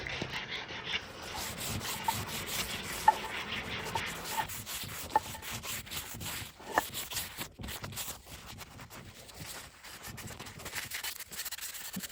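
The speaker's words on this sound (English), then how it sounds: "after a light scuff sanding" Steady scratchy rubbing of sandpaper on a wooden table, light scuff sanding in continuous back-and-forth strokes at close range with a few sharper scuffs.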